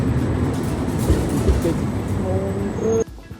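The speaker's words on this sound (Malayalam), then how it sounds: "ട്രാം ഇതാണ് ഇവിടുത്തെ ട്രാമുകൾ" A Warsaw city tram rumbles and rolls past nearby with a low, continuous clatter and a rising whine, then cuts off abruptly near the end.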